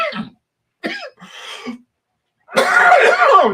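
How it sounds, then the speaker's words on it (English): Several loud, harsh coughs from a person with a sore throat, coming in short bursts with pauses between, ending in a longer, rougher fit close to the microphone. "I need to do something about that cough."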